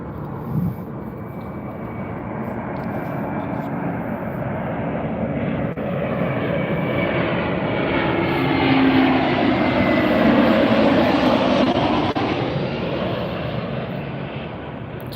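A Frontier Airlines airliner in Bob the Badger livery passes at Las Vegas airport, its engine roar rising from a steady broadband rumble to a louder swell midway, then easing off, with no voices over it.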